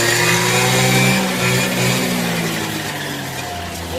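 A Peugeot Speedfight scooter engine idles steadily and close by just after being kickstarted, a buzzing two-stroke drone with slight rises and dips in pitch, with no talking.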